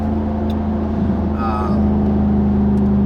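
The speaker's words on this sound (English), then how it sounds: "The wastegate's just kind of open dumping right now." A car engine with a new Xona 10569 turbo idles close by with a steady low drone and a faint hiss from the open wastegate, with no talking.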